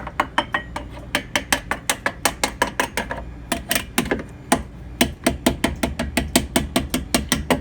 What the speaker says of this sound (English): Let's do the little bonk test on it with the screwdriver